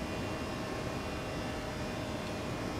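Loud steady roar of ToLiss A319 engines at go-around thrust in X-Plane 12, a dense unbroken broadband rush with no pauses or talking.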